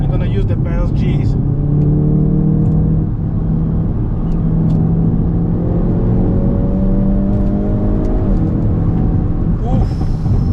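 A Hyundai i30N hatchback accelerates hard, its engine tone climbing loud and close through several rising sweeps with brief dips at each gear change, a dense rumble and whir throughout.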